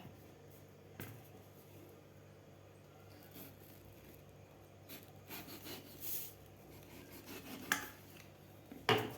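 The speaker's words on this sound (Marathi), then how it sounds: "तर आता आपण हे टरबूज कापून घेऊया" Watermelon being cut with a knife at home, quiet rubbing and slicing strokes through the rind with a few sharper clicks near the end, close but faint.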